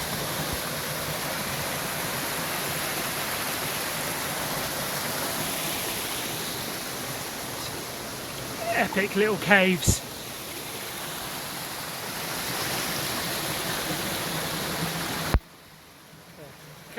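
Water rushes over a jungle waterfall and through a stream, a constant loud hiss that someone talks over briefly, with a short splashing burst near the middle before the sound cuts to near silence at the end.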